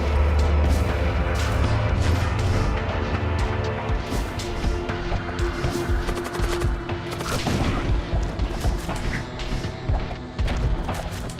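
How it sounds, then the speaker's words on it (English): Sci-fi ship weapons in Void War open fire in dense, continuous volleys of rapid gunfire bursts and heavy booms, loud and unbroken for the full stretch. "they start firing"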